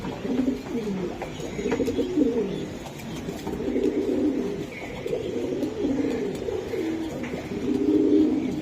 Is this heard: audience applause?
no